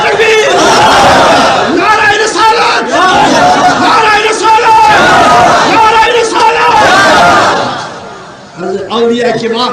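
A large crowd at a Muslim religious gathering roars the Nara-e-Takbir slogan in loud, massed shouts that swell and repeat, then briefly dip before rising again.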